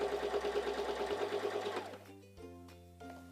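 A Singer Simple 3337 sewing machine stitches a straight seam, a fast, steady mechanical whirring chatter that runs for about two seconds, then stops, leaving faint tonal hum and light clicks.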